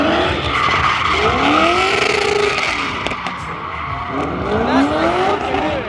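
A Nissan R34 GTR on two-step launch control at a two-step battle revs loudly in rising, bouncing sweeps, with sharp pops and crackles cutting through the harsh, nearby engine roar.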